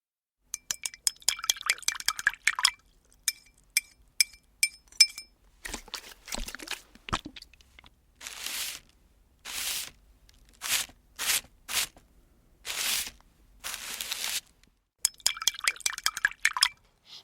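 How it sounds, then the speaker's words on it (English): Glassy clinks and tapping of a brush against a jar, swishing in water, then soft repeated dabbing strokes, and more clinking at the end, all close and quiet. "those were the sounds of a paintbrush being dipped in water, then in some paint"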